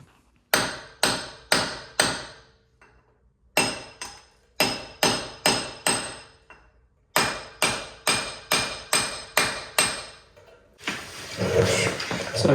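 Hammer blows ring out in quick bursts of three to five sharp metallic strikes, separated by brief pauses, while hub cone washers are driven out of a 100 Series Land Cruiser during a hub axle flange replacement; a noisy rustle follows at the end.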